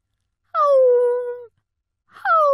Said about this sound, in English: The puppy cried and cried.